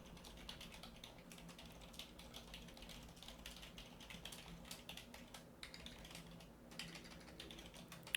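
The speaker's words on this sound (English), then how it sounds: "Hate when I'm typing and deleting and retyping" Steady, fast computer keyboard typing with dense clicking keystrokes runs throughout at moderate level, over a faint low background hum, with no talking.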